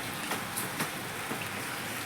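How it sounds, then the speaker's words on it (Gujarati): Rain falling steadily outdoors as a soft, continuous hiss with a few faint drop taps, fairly quiet and with no talking. "તો જોવો છો, વરસાદ આવે જ છે."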